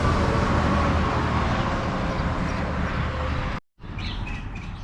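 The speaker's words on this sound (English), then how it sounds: "There's lots and lots and lots of birds here." A large flock of birds chirps loudly in a tree at a highway rest stop, dense overlapping tweets over a steady wash of nearby road traffic, cutting out briefly near the end before the chatter resumes.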